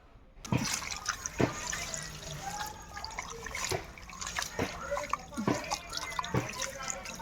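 Beef bones washed by hand in water, with sloshing and splashing, several sharp knocks of bone against the vessel, and water dripping and trickling throughout at close range.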